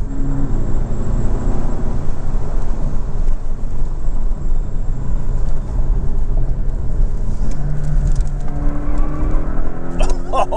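Porsche 718 Boxster Style Edition, a 2024 model with PDK gearbox, driving in Sport Plus mode: a steady, loud engine and road drone runs throughout, with rising tonal engine notes near the end.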